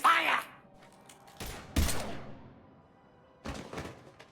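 Sporadic gunfire in the video game Mass Effect 3: a few sharp, loud shots and heavy thuds spaced out over a few seconds, with quiet stretches between bursts.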